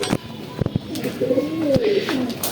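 Pigeons of the Bajrai and Deobandi breeds coo nearby in short throaty bursts, mixed with wingbeat-like flutters and clicks, while someone talks faintly in the background.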